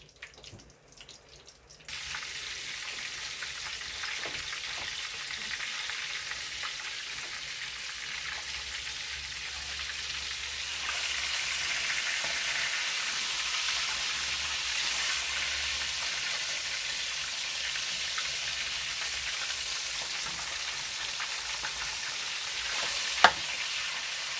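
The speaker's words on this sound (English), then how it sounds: "let it cook in a slow heat, and we'll turn it over until it gets done crispy" Stuffed milkfish, relyenong bangus, fries slowly in a pan with a steady sizzle that swells louder partway through, close and continuous, with one sharp clink near the end.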